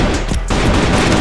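Loud, dense gunfire crackles in rapid bursts with a brief lull partway through, like an intense close-range firefight.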